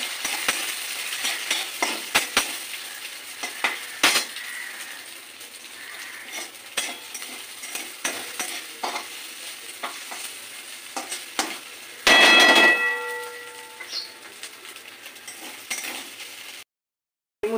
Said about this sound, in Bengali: এবার ডিমটাকে আমি নাড়াচাড়া করে নেব।